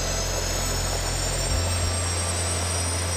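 Five jet engines on a flight suit idle at about 30,000 RPM together, a steady loud roar with a high whine, and the low rumble drops off partway through.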